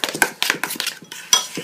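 Spoon scraping and clinking against a bowl as butter is mixed into warm mashed potatoes, a quick irregular run of close, sharp knocks with soft mashing between.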